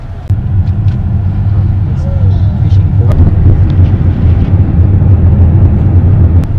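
Steady low engine and road rumble inside a car driving along a fjord in Norway on a bright evening, a continuous loud drone with occasional light clicks.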